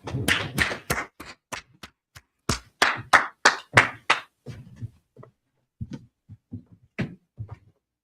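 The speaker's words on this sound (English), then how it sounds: "Clap it up." A small group gives a short burst of hand clapping at a brotherhood gathering; a dense run of sharp claps for about four seconds, then scattered, fading individual claps.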